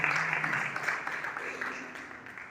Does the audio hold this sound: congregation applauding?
yes